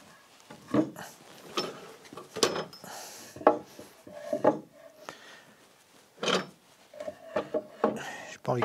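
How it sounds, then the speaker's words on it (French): A wooden dovetail joint for a workbench top is pushed partway together and pulled apart again, giving a string of short, close creaks and woody rubbing scrapes separated by quiet gaps. "je force juste un petit peu et je ressors pour voir où ça frotte"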